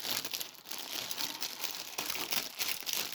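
Plastic bags of model kit pieces crinkle and rustle continuously during the unboxing of an AiP Thunderbird 3 kit, close and steady with no talk.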